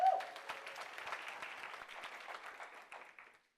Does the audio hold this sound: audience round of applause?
yes